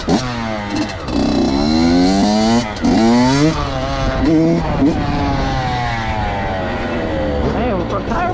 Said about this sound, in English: now we're testing the bike out. See the performance.